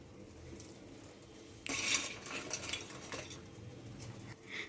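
Fried chicken pieces added onto cooked biryani rice in a pot, with clinking utensil and metal-pot clatter and soft scraping, close and moderate in level.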